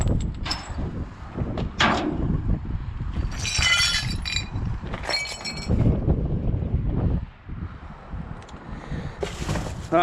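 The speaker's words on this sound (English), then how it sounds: "Pieces of glass, that's no good." Loose pieces of broken glass clink and rattle among scrap in a windy scrap yard, with repeated bright clattering bursts over steady rumbling wind noise.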